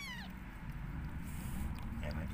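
A mother cat giving birth to kittens lets out a brief high meow at the start, faint over a steady background hum, while people talk quietly close by.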